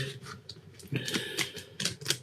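Tarot cards being shuffled by hand, a series of soft, papery riffling bursts and light flicks close by, with short pauses between them.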